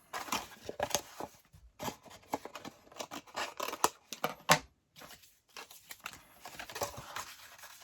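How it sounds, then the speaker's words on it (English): Scissors snipping at an angle through a lap book box, likely cardstock or paperboard, in a quiet indoor craft setting: a steady run of short, close cutting bursts with brief pauses and no talking. "I'm going to cut on an angle and get rid of this bulk here."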